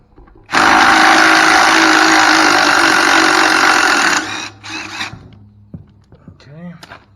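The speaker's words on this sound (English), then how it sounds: "I use impact wrench to get it out." An impact wrench rattles hard for about four seconds while pulling a clutch part off a Yamaha Raider motorcycle, loud and close, then a short second burst and workshop clatter.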